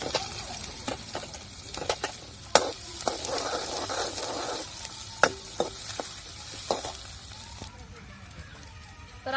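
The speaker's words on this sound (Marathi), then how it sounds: "आपल्याला कांदा चांगला परतून आणि चांगला नरम होऊन द्यायचा आहे" Onion sautés in a pan for a bitter gourd dish, a continuous hissing sizzle with sharp, scattered clinks and scrapes of a spoon stirring.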